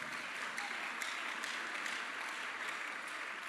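A church congregation applauds steadily after a pastor's call to praise, a faint, even wash of clapping heard from a distance.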